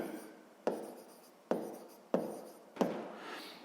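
Pen or pencil writing on paper while working a sixth-grade math exercise, four distinct sharp strokes at even intervals, each fading into soft scratching, close and alone without talk.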